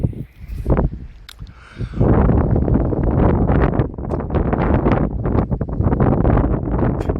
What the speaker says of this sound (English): I know this wind is bad on y'all